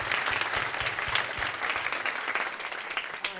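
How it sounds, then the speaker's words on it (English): Conference audience clapping at the close of an afternoon session, a dense, lively burst of many hands that holds steady and fairly loud for the whole stretch, with no voices over it. "Give yourself a round of applause."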